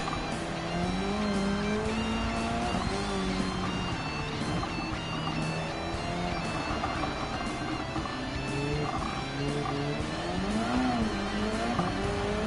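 Race car engine roaring at sustained high revs in Gran Turismo 7, a World Touring Car 800 race at Fuji International, with shifting engine pitch and tire noise throughout, loud and steady with no talk.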